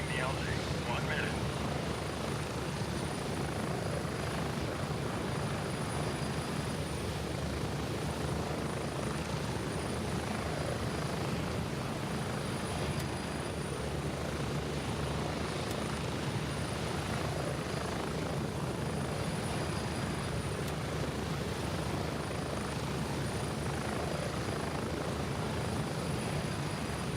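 A helicopter in the video game Gray Zone gives a steady, loud rotor and engine drone that holds evenly for the whole stretch, with occasional quiet talk beneath it.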